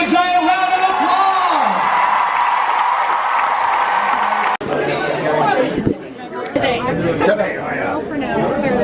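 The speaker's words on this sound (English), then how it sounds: "let's give them a giant round of applause!" A big crowd at WE DAY 2017 in Toronto applauds four young people, lively clapping and cheers mixed with loud chatter and voices throughout, with whoops rising near the end.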